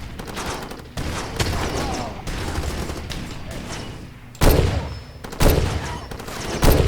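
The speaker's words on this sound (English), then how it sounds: "Oh, for goodness sake, shoot properly, Whiskey Man." Sustained gunfire rattles through a Far Cry 2 firefight, with heavy overlapping bursts running almost the whole time and a few sharper, louder blasts near the end.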